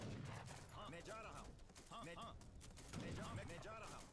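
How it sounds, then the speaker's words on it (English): Bombard cannons firing in a real-time strategy battle in Age of Empires 3, heard as rapid bursts of booming shots mixed with clattering battle noise in several dense waves, with a low voice talking faintly underneath. "Bombard's in action."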